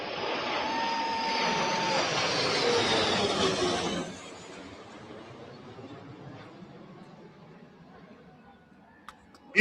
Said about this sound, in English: another little flyover thing.